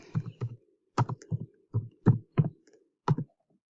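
Keys clatter on a computer keyboard in slow, uneven bursts of clicks with short pauses between them, close and crisp, with no talking over them.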